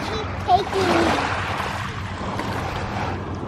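Waves wash against the shore of Mackinac Island, a steady broadband surge with wind, loud and close, while people talk briefly over it.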